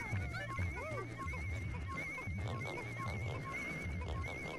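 Giant bread bug creature in Pikmin 2 giving low, grunting, pig-like snorts in a repeating rhythm, steady and fairly loud over game background noise and a constant high tone.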